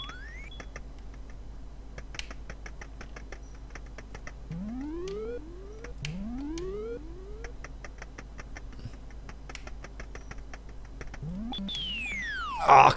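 Commodore 64 sound effects from the Kong video game: rapid rising chirp tones in clusters and steady ticking beeps, fairly quiet, with a brief louder burst at the end.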